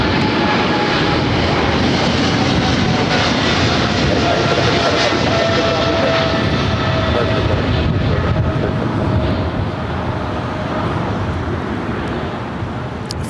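FedEx Boeing 777 freighter taking off from runway 25 left at LAX, a loud, continuous jet engine roar that holds steady and eases slightly toward the end.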